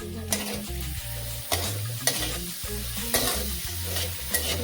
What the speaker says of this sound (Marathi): अशी मिरची भाजली बारीक खूप छान